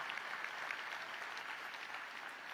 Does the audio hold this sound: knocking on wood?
no